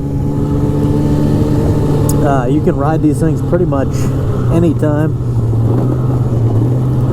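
A 2002 Polaris Super Sport 550 fan-cooled snowmobile engine idling steadily with a low, even drone, running close under someone talking throughout.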